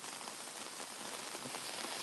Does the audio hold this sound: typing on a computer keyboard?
no